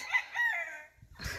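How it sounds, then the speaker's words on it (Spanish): A rooster crows loudly and close in a chicken coop, one long drawn-out call, followed by a brief burst of clucking and flapping from the flock. "Estoy nuevamente aquí en el gallinero."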